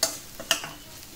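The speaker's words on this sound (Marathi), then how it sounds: "हलवून घ्यायचं आहे चांगलं. तर आपण हे भाजत राहूया आता." Sprouted moth bean mixture with tomato, onion and chili roasting in a pan, a couple of quick scraping stir strokes over a faint, soft sizzle.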